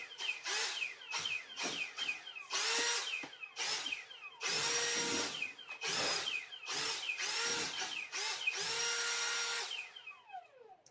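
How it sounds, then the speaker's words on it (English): A small handheld blower whines in repeated high-pitched bursts, revving up and cutting off again and again at close range, blowing cat fur off surfaces in a garage. "I will be using the blower to blow off most of the stuff"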